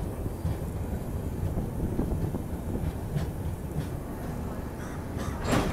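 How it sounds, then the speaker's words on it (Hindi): A passenger train runs on a Kerala railway line through backwaters, giving a steady rumble and clatter of wheels with wind noise over the microphone and a few faint crow caws above it. "सिर्फ 2 मिनट के लिए ट्रेन यहाँ पे रुकी और उसके बाद से यहाँ से भी अपना डिपार्चर जो है हो चुका है"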